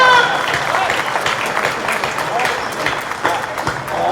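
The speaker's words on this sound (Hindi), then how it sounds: "वरना और लोग तो तालियां बजा रहे हैं।" Audience applause breaks out at a Hindi humorous poetry recital (kavi sammelan), a dense wash of clapping heard alongside a speaking voice, fairly loud and near.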